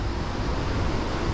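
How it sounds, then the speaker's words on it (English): A waterfall at Nongkhrom, Meghalaya, gives a steady, dense roar of rushing water that fills the whole brief moment. "This is the beautiful waterfall of"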